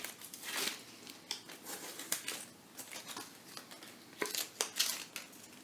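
Tape is peeled and torn off a planar magnetic tweeter frame in short, quiet, crinkly rips and crackles, spaced irregularly and heard up close.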